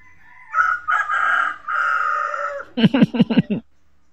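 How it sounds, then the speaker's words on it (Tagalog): A rooster crows loudly nearby in a long drawn-out call, followed by a quick series of sharp clucks. "Dito may tilaok."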